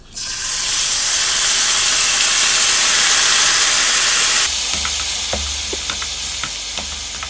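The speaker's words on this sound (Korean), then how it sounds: "일단 1차적으로 고기를 볶습니다" Beef dropped into a hot, oil-coated pan for stir-frying bursts into a loud, rushing sizzle that holds for several seconds. It then eases into a quieter crackle with light utensil clicks and scrapes, and no voices.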